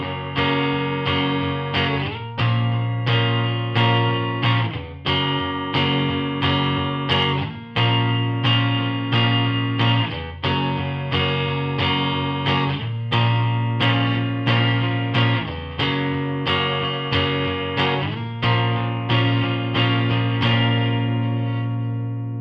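An electric guitar strums the verse of a Northern Soul song in steady eighth-note chords, loud and rhythmic with effects-laden tone, repeating in regular two-bar patterns without talk.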